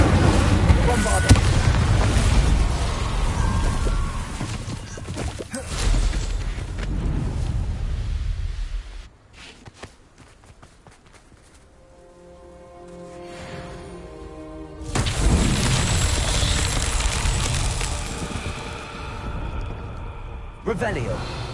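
Spell explosions from the Hogwarts Legacy video game, heavy booming blasts and roaring bursts that fade into a quieter stretch before another loud burst of fiery noise, with a voice talking over the action.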